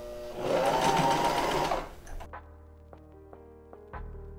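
A domestic sewing machine running a straight stitch on thrifted clothing, a loud steady mechanical whir for nearly two seconds, then stopping, followed by a few soft clicks and taps of the machine being handled nearby.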